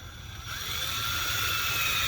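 A power driver spinning a screw into wood while a frostproof sillcock is mounted, a close continuous whirring motor whine that starts up and holds steady, with no speech.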